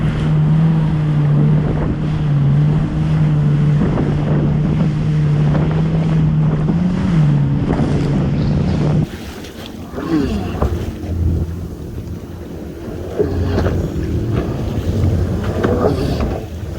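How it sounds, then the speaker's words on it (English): Jet ski jumping waves off Miami, with a steady motor whine that breaks off partway, then choppy splashing, water and wind buffeting the microphone. "that's what makes jet skiing fun. Jumping the waves."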